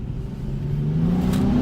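A Nissan 370Z with its stock OEM exhaust revs on a downshift, the engine note climbing steadily in pitch. It sounds close and moderately loud, with no talking.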